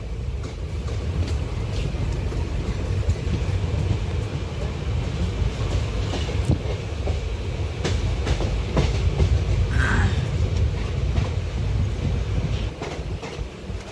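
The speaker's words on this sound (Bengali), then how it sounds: "ট্রেন ছেড়ে দিয়েছে এখন" The Amravati Express passenger train runs on rails with a loud, continuous rumble and rhythmic clickety-clack of wheels over track joints, heard close from on board with no talk.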